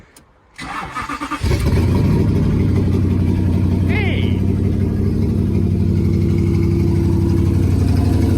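A twin turbo V8 swapped into a Ford Focus project car cranks with a few stuttering turns, fires up and settles into a deep, loud, steady idle, with a brief shout from a man near the start.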